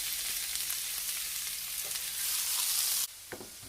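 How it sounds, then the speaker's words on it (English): Peppers and onion frying in oil in a hot pan, a loud, dense, steady sizzle that cuts off sharply into a quieter hiss with a few light knocks. "In a hot pan, I'm going to put some oil and add the pepper and onion"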